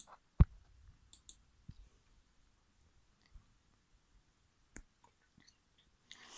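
Sparse, scattered clicks from a computer keyboard during a Roblox game session, a few sharp taps separated by quiet gaps, faint and close with no talking.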